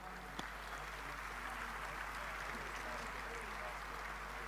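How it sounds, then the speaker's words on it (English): An audience at a club champion awards night applauds the players with a steady, even wash of clapping that holds for several seconds in a large room, with a low hum beneath it. "a round of applause, I think, for all of the players there"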